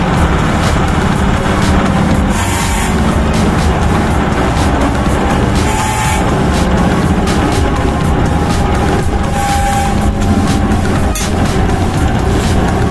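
A steam turbine winds down toward a stop, its loud, steady mechanical whir and rumble sustained throughout with little variation, no voices over it.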